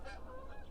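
Birds give a run of honking, goose-like calls, faint and somewhat distant, with a few tonal cries carrying over a low, steady background and no talking.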